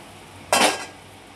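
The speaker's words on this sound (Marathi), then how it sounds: "त्याच्यानंतर आपल्याला ह्याच्यावरती झाकण ठेवायचं आहे गॅस स्लो करून" A lid is set onto a pan of cheese garlic bread on a low gas flame, giving one short metallic clank with a brief ring that fades fast against quiet background hiss.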